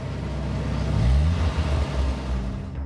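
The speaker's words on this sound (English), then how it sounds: "You could hear the engine just make the noise of when somebody has pushed the accelerator to the floor" A car engine revving up hard with the accelerator floored in the Arizona desert, a loud low roar that rises and holds over a few seconds against steady background noise.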